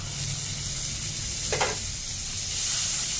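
Tomatoes sautéing with browned onions in a pan for mutton brain gravy, a steady close sizzle with one brief stirring scrape partway through.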